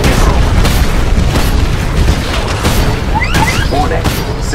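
A Titan mech being destroyed in the video game Titanfall after severe reactor damage, a loud sustained booming explosion with crashing debris, followed by brief high sci-fi chirps.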